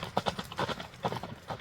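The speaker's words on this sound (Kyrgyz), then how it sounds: "таза абада бир дыйкан таптаган атын чыгарабыз достор" Hooves of a horse clip-clop in a quick, uneven rhythm on a country road outdoors, fairly close, with no talk over them.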